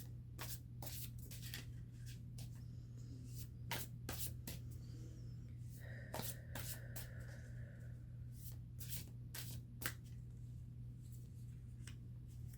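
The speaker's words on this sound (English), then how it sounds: "We're going to pull a tarot card here" A tarot card deck is shuffled by hand, giving a run of crisp, irregular card snaps and riffles over a steady low hum, with no voices.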